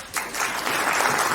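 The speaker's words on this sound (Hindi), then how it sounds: "बढ़िया, तालियां।" Brief burst of audience clapping at a seedling nursery training session, starting abruptly and holding steady for a moment.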